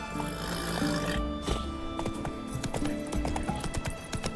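A horse gallops in The Witcher 3 with a steady, close clip-clop of hooves, plus a brief whinny-like snort early on.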